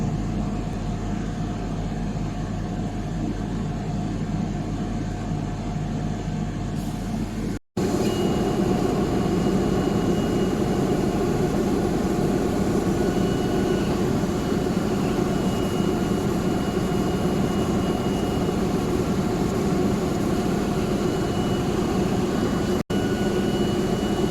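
A cutting machine hums steadily while cutting material for a door sign. The close, continuous mechanical drone breaks off for a moment and then resumes at an even level.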